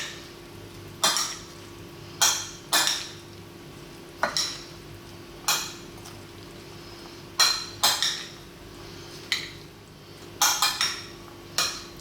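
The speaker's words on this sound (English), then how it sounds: "I'm going to give that a mix" Chicken salad tossed with vinaigrette in a bowl, heard as a string of sharp utensil scrapes and clinks that come in irregular bursts, close up and with no speech.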